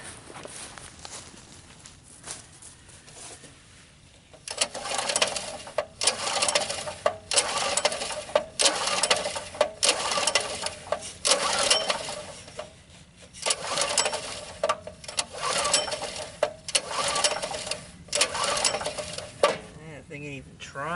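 An old small gas engine with stale fuel swapped for fresh gas is cranked again and again, giving bursts of rapid mechanical rattling and whirring between short pauses, and it never catches. The pulls come close and loud, with no talking.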